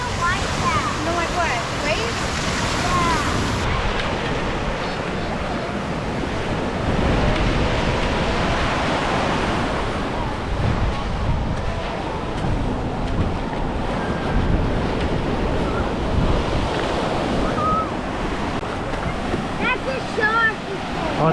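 Ocean surf rolls and crashes continuously beneath strong wind buffeting the microphone, a dense, loud wash with no clear gaps, while people talk over it.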